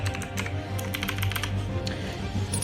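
Rapid keystrokes clatter on a computer keyboard as an empire name is typed, close and continuous over a steady musical background.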